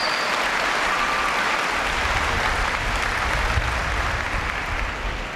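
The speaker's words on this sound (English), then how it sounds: "Yeah, we can clap." Sustained, dense applause from a large audience welcoming Spanish Armada sailors, a continuous wash of many hands clapping at an even level from start to finish.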